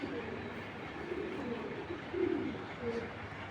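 Racing pigeons coo softly in low murmuring phrases, faint and close, over a quiet background hum with a slightly louder coo near the middle.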